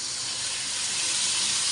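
Spice paste sizzling and steaming in a wok, a short, soft, even hiss with no other sound.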